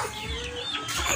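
Chickens cluck steadily and fairly softly near papaya leaves tied up for them to peck at, with a low farmyard rumble underneath and no voices.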